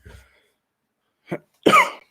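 A faint breath, then a short throaty cough followed by a louder, fuller cough, close by with silence between them, during an NFL game broadcast.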